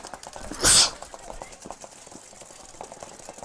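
A single loud, close sneeze bursts out near the start, standing alone against a low background murmur at a paintball championship event.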